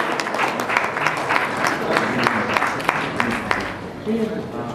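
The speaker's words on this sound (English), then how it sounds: "A round of applause for Mr. Suhas Rane." Audience applause at an award ceremony honoring an animal welfare recipient, a steady patter of many hands at moderate distance, tapering near the end as a voice comes in.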